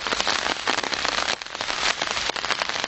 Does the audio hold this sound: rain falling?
yes